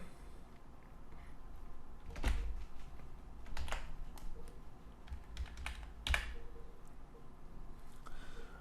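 Quiet, close typing on a computer keyboard while writing PHP code, with scattered keystrokes and a few firmer key presses over low background hum.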